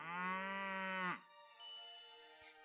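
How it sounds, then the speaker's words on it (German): A sick cow in the video game Doraemon Story of Seasons gives one long, loud, mellow moo that slides down at the end, followed by a brighter, higher game sound effect. "Gut, dann kümmern wir uns mal um unsere kranke Kuh."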